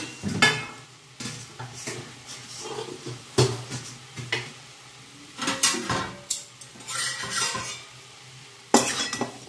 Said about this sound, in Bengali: এবার হাই ফ্লেমে একটুখানি ভেজে নেবো, সব মিশিয়ে নেবো মশলাগুলো।